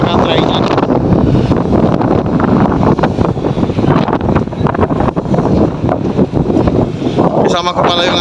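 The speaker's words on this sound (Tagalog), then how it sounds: "Napakalakas ng hangin dito." Strong wind buffets the microphone at Vintar Dam in Ilocos Norte, a loud continuous roar with gusty surges, while someone talks over it throughout.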